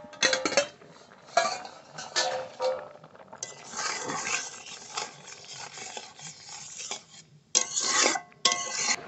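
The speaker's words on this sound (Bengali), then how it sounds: "ঢাকনা তুলে নেব।" Metal clinks and scrapes as a lid is lifted off a cooking pot on a home stove, a series of close, bright clanks and rattles spread across several seconds.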